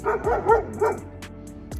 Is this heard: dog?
yes